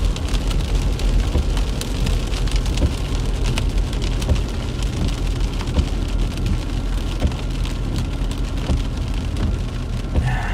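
Heavy rain pours steadily during a thunderstorm with a tornado threat in Illinois and Wisconsin, a dense continuous hiss of drops close by, with no voices.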